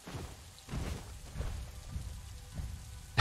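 Steady rain in the video game The Isle patters on a surface, a soft continuous wash with scattered drops, moderately quiet and without voices.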